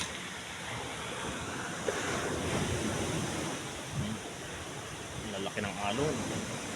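Large ocean waves crash and roar steadily under strong storm wind during a typhoon with rain, a dense, continuous wash of surf and wind noise throughout.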